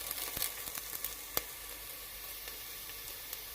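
Onions sauté in a small amount of oil in a pan, giving a steady close hissing sizzle with a few soft pops and one sharper tap.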